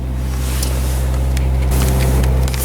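A 1985 Honda Accord DX with a five-speed manual idles steadily up close, its low engine hum constant throughout with faint clicks and rattles above it.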